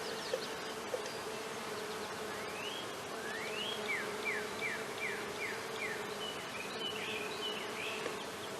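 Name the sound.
honeybees buzzing in an open hive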